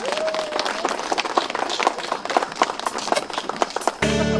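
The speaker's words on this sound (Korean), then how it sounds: "박수 한번 주시겠습니까?" Audience applause fills a Korean outdoor arts performance, breaking out for a trot singer taking the stage: dense, steady clapping from a sizable crowd that runs without pause, then gives way abruptly to music.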